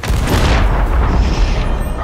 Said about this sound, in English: You explode the barrel